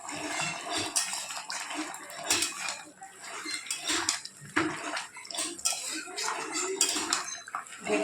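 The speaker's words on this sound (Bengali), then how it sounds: "একটু নেড়ে দিই।" Chicken curry with potato and squash being stirred in a pot, with repeated scraping and clinking of a utensil against the metal and wet splashy movement, fairly close and steady over the whole stretch.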